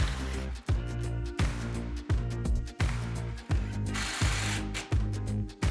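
A power drill drives screws to fix a 2x4 scrap piece against an upright on a garage shelving unit, with repeated short bursts of whirring, each ending in a sharp stop, steady and close.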